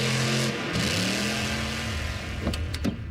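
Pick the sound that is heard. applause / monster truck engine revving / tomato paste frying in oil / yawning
monster truck engine revving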